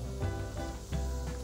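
A shrimp cracker sizzles in hot oil, a steady close crackle and hiss continuing throughout with a low hum underneath.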